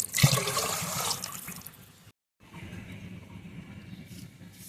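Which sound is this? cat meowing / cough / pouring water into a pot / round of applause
pouring water into a pot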